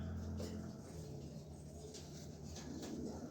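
A female pigeon from the ARP City Club coos nearby in soft, low, repeated throaty murmurs. The calls are quiet and steady, with only faint background noise.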